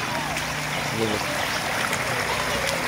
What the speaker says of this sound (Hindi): और पानी जो सैलाब का है बड़ी तेज़ी से यहाँ से गुज़र रहा है